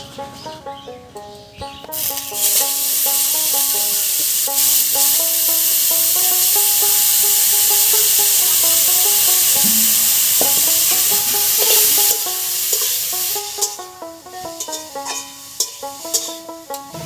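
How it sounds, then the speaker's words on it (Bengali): Grated raw papaya hits hot oil with whole cumin, bursting into a loud, sustained close sizzle that fades back after several seconds, with tonal clatter in the background. "তেল গরম হয়ে গেছে, তেলের মধ্যে দেবো সামান্য একটু গোটা জিরা। এবার গ্রেট করা পেঁপেটা।"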